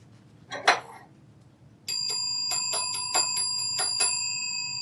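After one soft knock, a vintage metal counter bell is struck about six times in an uneven rhythm, each ding bright, clear and close, with a ringing tail that overlaps the next strike.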